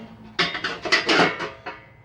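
A metal ash pan sliding onto round bars inside a wood burner, a few quick clanking metallic knocks and scrapes over about a second, close by.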